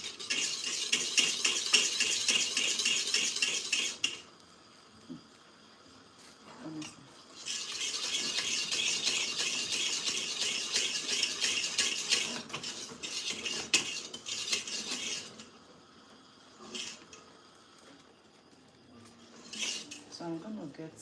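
Egg and sugar are whisked briskly in a bowl, with rapid metallic scraping in long bursts broken by short pauses and a few clinks, close and fairly loud.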